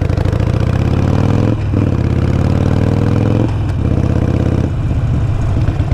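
A motorcycle engine runs loud and close, its steady low drone breaking briefly at three points where the tone dips and shifts as gears change.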